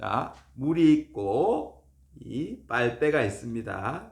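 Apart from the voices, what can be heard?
No everyday noises stand out.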